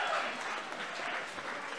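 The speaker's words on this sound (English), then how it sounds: "Give him a round of applause." A stand-up comedy audience applauds with dense, steady clapping that fills the room for a couple of seconds without a break.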